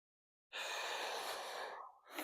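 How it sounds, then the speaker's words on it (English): A long, breathy exhale during a Pilates mat roll-up, starting suddenly from silence and sustained steadily at close range before tapering with a fresh breath at the end. "Exhale as you roll up."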